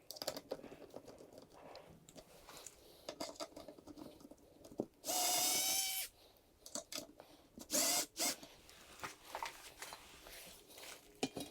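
Cordless power driver removing screws from a Harbor Breeze ceiling fan motor housing, two short high whirring bursts separated by a couple of seconds amid quiet clicking, rattling and handling noises, close by.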